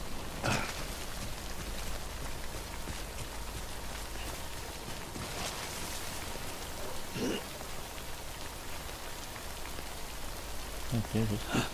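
Steady in-game rain from Death Stranding hisses continuously over the whole stretch, and a few brief louder gusts and soft thumps rise above it with no clear talking.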